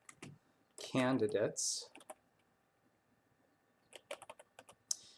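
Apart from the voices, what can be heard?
typing on a computer keyboard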